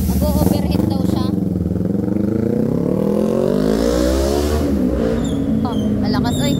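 An overhauled Kawasaki Ninja 400 motorcycle engine revs hard and close, its pitch climbing and falling through sustained loud throttle blips in a workshop, with voices at times.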